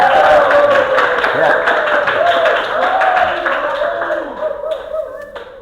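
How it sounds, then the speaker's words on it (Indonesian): A classroom group claps after a student's poetry reading during a teaching assessment, loud brisk clapping that gradually thins out and fades, with voices talking over it. "tepuk tangan semua"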